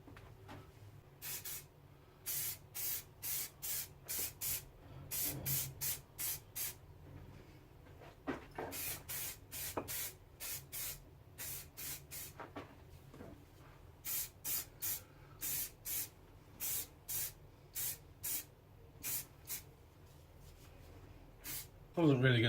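A spray can puts lacquer on classic Mini parts in quick bursts of hiss, some short and some longer, in clusters with brief gaps, close and fairly quiet, and a low thump comes at the very end.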